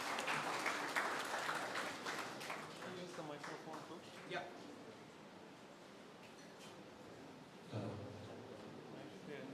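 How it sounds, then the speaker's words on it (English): At a technical discussion event on wireless communication, AI and innovation, an audience applauds to welcome a speaker to the dais. The clapping is strong at first, then fades to quieter, scattered claps and a murmur of people talking. "I would now ask and invite, with a huge round of applause, Ram sir to the dais, please."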